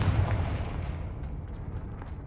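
Booming magical blast from the Confringo fire spell in Hogwarts Legacy, a loud low rumbling burst that rolls on steadily for a couple of seconds with no voices over it.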